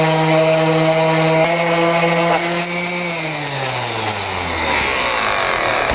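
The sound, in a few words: orbital sander sanding a Concept2 oar blade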